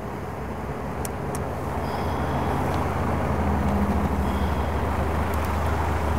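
Steady engine and road roar from inside a moving 1936 Ford rumble seat roadster, a continuous rumbling drone with wind noise that builds slightly and holds.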